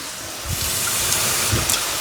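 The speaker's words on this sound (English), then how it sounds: "So I'm gonna put a little bit of water." A little water is poured into thick pasta sauce in a sheet pan for lasagna, giving a steady gushing flow with a couple of louder splashy surges, close by and with no talking.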